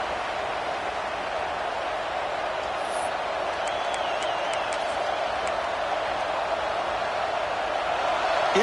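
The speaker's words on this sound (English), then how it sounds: "It's early, but this crowd is fired up. Listen to this noise here." Steady roar of a stadium crowd in an American football video game, a constant broad wash of crowd noise with faint chirps and whistles above it, moderate in level throughout.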